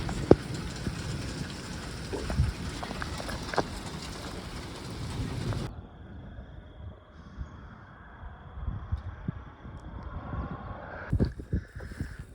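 Steady, dense rain hisses across the whole clip, heavier in the first half and then easing to a softer, duller patter with occasional louder drops.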